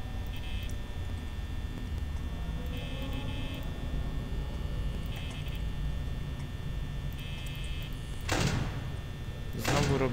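A security door in the video game Five Nights at Freddy's shuts with two sharp mechanical bursts near the end, over a steady electrical hum and faint recurring tones.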